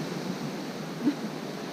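Ocean surf washing up a beach, a steady soft hiss of breaking water with a faint wind-like wash and a slight swell near the end, heard at moderate distance without voices.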